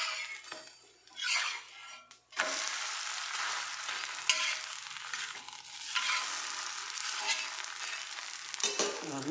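A spicy ridge gourd adai crisps in coconut oil on a flat pan, giving a continuous hissing sizzle with occasional utensil clinks near the start and end.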